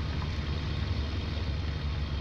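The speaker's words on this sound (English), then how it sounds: "This tractor's quiet." A tractor engine in Farming Simulator drones steadily after deep disking a field, a loud continuous low rumble with no change in pitch and no voices over it.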